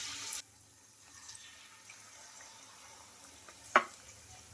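Rice flour snacks frying in oil in a kadai, a faint low crackle under quiet room noise, with a short splash near the start and a sharp clink toward the end.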